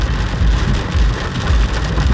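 Heavy rain drums steadily and loudly on a Hyundai i20 while it is driven, a dense, unbroken wash of rain noise with no voices.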